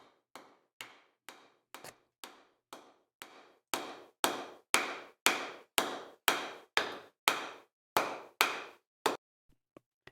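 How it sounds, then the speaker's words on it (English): A wooden mallet handle is driven through the mallet's head with about twenty sharp, close hammer blows, evenly spaced and growing louder midway, then a few lighter taps at the end, with no voices. "I am now completing the assembly of the mallet and driving the handle through the head of the mallet."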